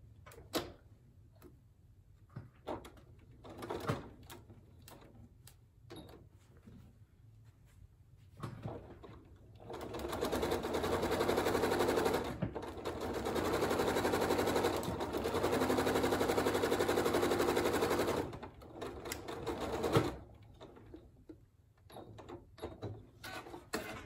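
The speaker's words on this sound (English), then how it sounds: "sew it together using your 1/4 inch foot" A sewing machine stitches fabric pieces with a 1/4 inch foot, opening with scattered clicks and handling noises, then a steady loud motor whir for about ten seconds, followed by more sparse clicks.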